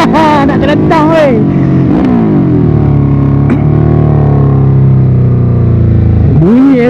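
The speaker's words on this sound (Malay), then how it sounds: "Bunyi L-twin ni memang" A Ducati Hyperstrada 821 with an L-twin engine revs and drones loudly, its pitch sweeping up and down through gear changes on a winding road. A rider's voice and whoops come through over the engine.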